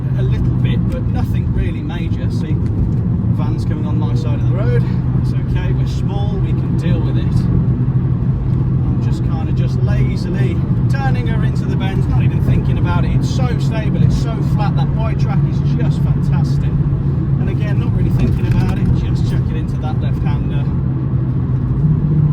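A Renaultsport Clio 197 (non Cup Pack) drives on the road with a steady engine drone and gear changes, heard continuously beneath someone talking from inside the cabin.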